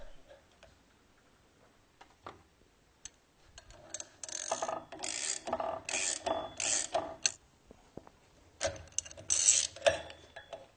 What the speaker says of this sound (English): Remove the rear bearing from the shaft.